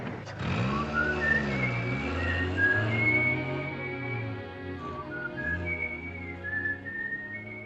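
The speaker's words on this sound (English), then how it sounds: "Is it all right now if I whistle together?" A person whistles a lilting melody in a 1940s World War II drama, carrying the tune clearly over soft, sustained orchestral music.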